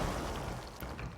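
A grenade explodes in the video game Control, a loud, close, rumbling blast that fills the whole moment and fades slightly.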